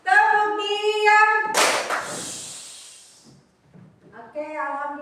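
Fifth-grade pupils in a classroom finish a short clap routine (tepuk diam) with one loud burst of claps after a chanted voice, then a brief hush before speaking resumes.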